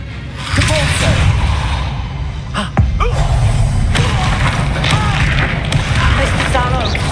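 The Depulso repelling spell cast in the Hogwarts Legacy video game: a sharp thud and crash of force erupts amid a dense, loud wash of combat effects, with character voices talking over the din.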